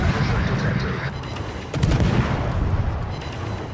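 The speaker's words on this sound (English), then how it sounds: "Valkyrie's going to open up with the guns." Heavy naval guns fire from a warship in the World of Warships game, a battleship engagement with a loud booming salvo about midway over a rumbling battle background and persistent low roar.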